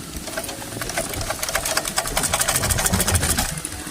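A sewing machine's handwheel is turned forward by hand, giving a rhythmic mechanical clatter that gets quicker and louder and then eases off, close up and with no other sound.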